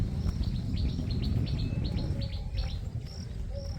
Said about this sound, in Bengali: কি সুন্দর পাখি ডাকের আওয়াজ আসছে